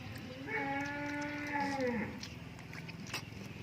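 A cow lets out one long, drawn-out moo, loud and close, with steady outdoor background noise after it fades.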